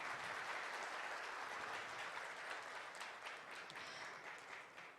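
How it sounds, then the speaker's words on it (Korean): A conference audience at an industrial security event applauds a presenter after a talk, steady dense clapping throughout, moderately distant and slowly tapering at the end. "수고해주신 안진우 책임님께 여러분 다시 한 번 더 아낌없는 박수 부탁드리겠습니다."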